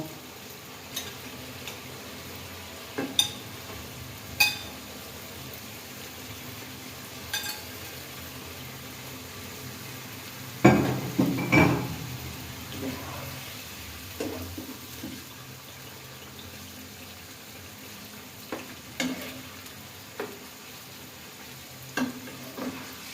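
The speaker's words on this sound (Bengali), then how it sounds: "আমার মশলা থেকে তেল ছেড়ে আসছে এখন আমি মাছগুলো দিয়ে দিব" Fish fries in spiced oil in a pan, a quiet steady sizzle broken by scattered utensil clicks and a louder clatter midway as pieces go in.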